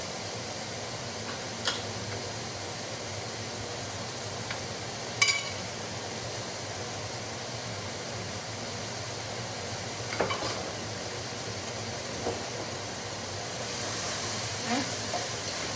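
Mushrooms, carrots and tomatoes cook in a pan for Portuguese-style chicken and rice, giving a steady, low hiss throughout with a few faint clicks and knocks, no talk over it.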